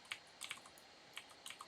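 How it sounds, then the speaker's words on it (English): Key presses on a computer keyboard, several soft, quick clicks in small clusters, close and quiet with no voices over them. "I just hit F on the keyboard to zoom into it"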